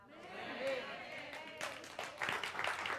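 A church congregation applauding during a Wednesday evening service: faint, scattered clapping that swells in the second half, heard at a distance beneath murmuring voices.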